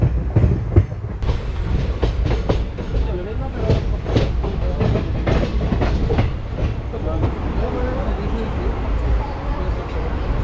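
The Chennai Mangalore Super Fast train runs steadily on the rails, with a continuous rumble and a regular clickety-clack of wheels heard from onboard, with speech at times over the noise.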